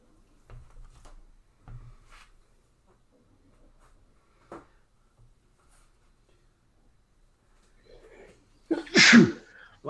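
Single sharp, loud human sneeze bursting out near the end after a stretch of quiet with faint scattered handling noises.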